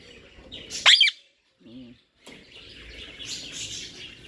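A peacock gives a loud, sharp rising call near the start, close by and short, followed by quieter chirps over outdoor background noise, with a voice briefly heard.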